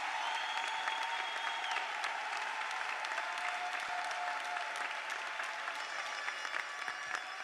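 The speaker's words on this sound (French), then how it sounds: "Est-ce qu'on peut l'applaudir alors qu'elle s'avance?" A crowd claps steadily at a scholarship ceremony in dense, even applause that holds at the same level throughout, with no voices rising above it.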